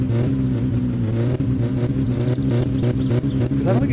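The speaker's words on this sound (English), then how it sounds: "I'm just gonna rev it up." A car engine in the video game My Summer Car, run hard until it blows, revving loudly and continuously with a strong low droning tone that wavers slightly throughout.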